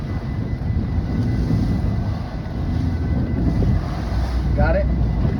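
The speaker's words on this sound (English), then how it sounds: "The wind is unbearable. I hope the audio is good." Strong wind at sea buffets a camera microphone fitted with wind protection on a fishing boat in rough seas, a loud, continuous low rumble that fills the whole stretch, with a brief faint voice-like sound near the end.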